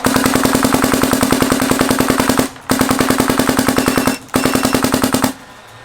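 Dye DSR paintball marker fitted with a suppressor can fires rapid, evenly spaced shots in three close, loud strings separated by brief pauses, with no talking.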